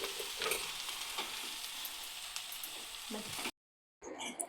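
Vegetables cooking in a full wok give a steady close sizzle with occasional stirring scrapes, then a brief silence near the end before the frying resumes.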